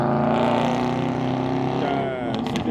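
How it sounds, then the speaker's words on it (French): A car rumbles past close by with a steady, loud engine drone that fades slightly toward the end. "c'est une voiture à la con qui vient de passer là"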